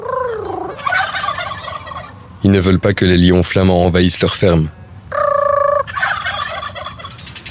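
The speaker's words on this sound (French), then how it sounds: "Dans la cour de la ferme, on vend des dindons." Turkeys for sale in a Flemish farmyard gobble loudly in several close, rapid bursts, with someone speaking French before, between and after the calls.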